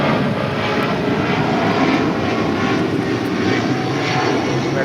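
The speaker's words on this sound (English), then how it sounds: "This is Delta Airlines 678, headed out to JFK on a 757-200." A Delta Air Lines Boeing 757-200 leaves LAX for JFK with a loud, close, continuous engine roar that stays steady throughout, with no speech.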